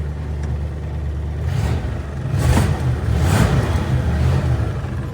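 A 1958 Chevrolet Corvette engine idles close by with a deep, rumbling burble, then rises in a few revving swells before settling back to a steady idle.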